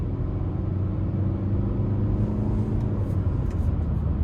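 A 2026 Nissan Altima 2.5 SR on a test drive, steady low engine and road rumble heard from inside the cabin, even and moderately quiet throughout.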